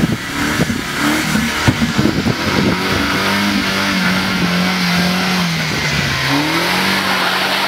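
A car pulls away and accelerates, its engine note rising and falling through gear changes, loud and close, with rattling clatter at the start before settling into a steady drone.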